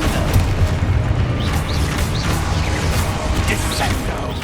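A Confringo blasting spell exploding in Hogwarts Legacy gives a loud, booming crash with whooshing debris, a steady roar of impact and rumble that holds for several seconds with no voice over it.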